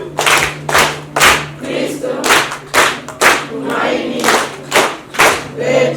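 Church congregation at a Catholic mass clapping in a strong rhythmic pattern of sharp, loud bursts, with a voice briefly speaking over the claps.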